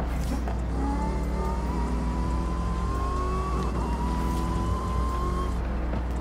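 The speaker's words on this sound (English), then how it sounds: "the supercharger sound way different than the track too" A supercharged car engine in Forza Horizon 5 drones steadily and loud, its whine rising in pitch then dropping once midway as if shifting gear, with low rumble underneath and no talk.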